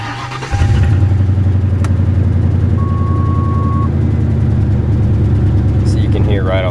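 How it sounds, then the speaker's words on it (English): A 1995 Lincoln Town Car's V8 with an exhaust leak, a muffler on one side and only a resonator on the other, fires up and settles into a loud, close, rough idle with a rapid ticking puff. "So you can hear right off the bat that exhaust leak."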